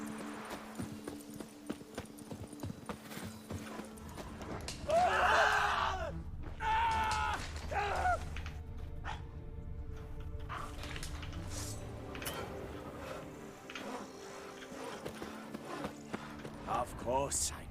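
Hooves clip-clop at a steady trot under a constant backdrop of music and ambience, with a brief shrill whinny-like cry partway through, from wild horses in the video game The Witcher 3.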